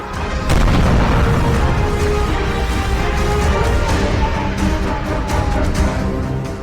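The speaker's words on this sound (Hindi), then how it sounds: "दक्षिणी लेबनान में ऐसे धमाके दिन रात हो रहे हैं।" Heavy explosions from Israeli bombing in southern Lebanon, a dense, continuous rumble of booms and blasts sustained at high loudness throughout, with no voices.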